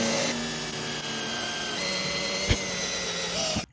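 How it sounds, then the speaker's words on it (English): A hole saw bores a hole of about three-quarter inch during a Pond Prowler 10 lights install, giving a steady close whining drone with a tonal hum and a sharp knock near the end as the motor cuts off. "I'm gonna use a hole saw"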